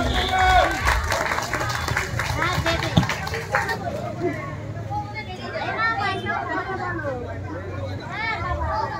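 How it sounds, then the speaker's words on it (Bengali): Audience applause at a prize giving during a youth cultural dance competition, a loud burst of clapping that gives way to crowd chatter and music as people settle, with voices throughout. "জোরে হাততালি"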